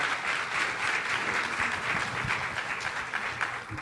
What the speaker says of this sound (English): I just want to give a round of applause for them.